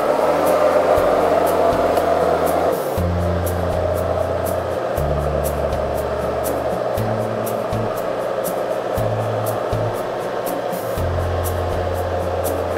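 An engine-powered JLG boom lift drives in high speed with a steady loud engine drone, overlaid by repeated on-off tonal hum, and a regular faint ticking continues throughout.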